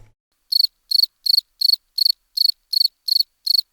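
Cricket song as played in the Paris metro, a loud, close chirping repeated in nine evenly spaced bursts, each a quick trill of pulses, with silence between them.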